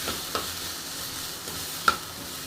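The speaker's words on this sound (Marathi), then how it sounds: "चण्याची डाळ जी भिजून घेतली होती ती याच्यामध्ये टाकणार आहे हिला छान असे फ्राय करून घेणार आहे" Soaked chana dal frying in a pan for a lauki (dudhi bhopla) bhaji. A faint, steady sizzle runs throughout, broken by a few brief clicks of stirring.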